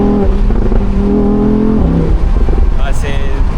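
An Audi R8 V10 engine revs and accelerates hard, loud and close, with people talking over it.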